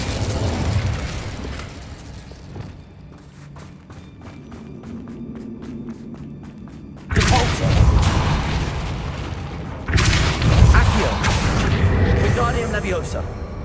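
A fire spell cast in the game Hogwarts Legacy: a loud whooshing burst of flame at about seven seconds and a second one near ten seconds, each roaring on over layered game sounds and ambient noise.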